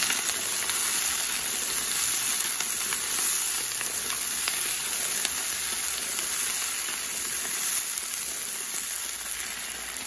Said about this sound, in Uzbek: bir pas yağda qovurib olamiz, shuncha qizartiramiz, chiroyli qilib.